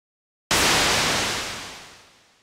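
A synthesized trailer effect made in Logic Pro with hard distortion: a bright, gritty burst of harsh noise hits suddenly after silence, holds loud, then slowly fades away over about two seconds.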